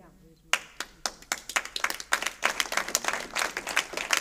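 A woman claps in quick, sharp bursts that start abruptly after a brief quiet moment and continue in an uneven rhythm of close, loud hand claps with some cheering voice mixed in.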